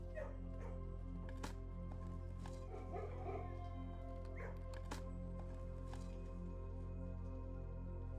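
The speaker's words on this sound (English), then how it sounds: "Where's the puppy? Puppy!" A puppy in the video game Blue Prince gives several short, soft yips and barks scattered over a steady low background hum, fairly quiet and with no talk.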